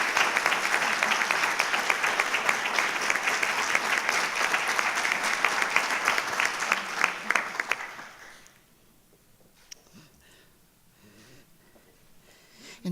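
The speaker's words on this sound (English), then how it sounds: "Now let's give these two the applause they deserve." An audience at the 2017 Governor Awards ceremony claps loudly and steadily for about eight seconds, then the applause stops abruptly, leaving a quiet room with a few scattered sounds.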